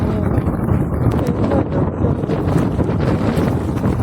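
Strong wind buffets the microphone in a constant, heavy rumble while fishing with nets, gusting steadily without pause.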